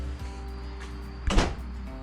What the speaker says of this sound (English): Would you open the door for me,